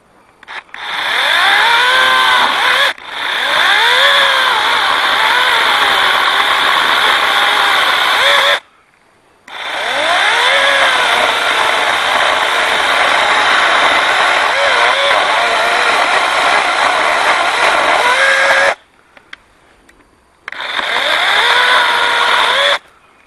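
Lynxx 40 volt rechargeable battery chainsaw cutting a tree, a loud high electric whine running in three long bursts with brief silent gaps, pitch sagging and rising under load.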